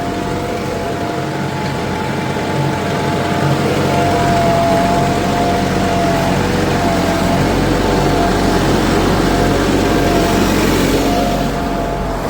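A New Holland Workmaster 105 four-wheel-drive tractor engine runs steadily throughout, a loud, continuous low rumble with a faint drone and no speech.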